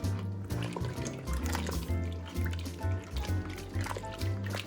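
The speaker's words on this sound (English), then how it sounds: "And we're gonna give this a stir." Chicken broth being stirred in an Instant Pot on the sauté setting gives soft liquid sloshing and dripping sounds over a steady low hum, continuous and close.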